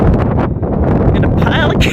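Low, heavy wind buffeting the microphone on a cold Wyoming hillside, rumbling steadily with brief higher sounds near the end.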